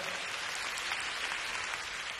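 Applause from a concert audience at a 2003 Hong Kong Cantopop show, a dense, continuous clapping that fills the hall evenly, with no voice on top.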